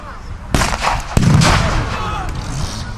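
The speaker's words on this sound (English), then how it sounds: "Gunfiring explosions commence between the German and American." Gunfire and explosions from a WWII battle reenactment between German and American forces, with a couple of sharp loud blasts followed by rumbling booms and scattered shots echoing outdoors.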